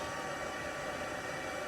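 An embossing heat tool's fan blows steadily, hotter than a hair dryer but less forceful, melting embossing powder; a constant, close broadband whoosh without pauses.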